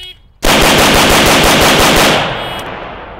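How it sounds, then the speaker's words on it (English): Rapid rifle fire during a ten-round shooting drill: a loud, fast burst of evenly spaced shots that starts abruptly, runs for about two seconds, then falls into echoing decay. "And notice once he shot the weapon dry, he felt the weapon shoot dry."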